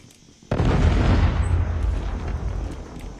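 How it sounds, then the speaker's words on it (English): A Predator missile strike explodes in Call of Duty Mobile, a sudden loud boom that lands after a short quiet moment and then rolls on as a heavy, rumbling blast that slowly fades. "Hostile Predator missile inbound."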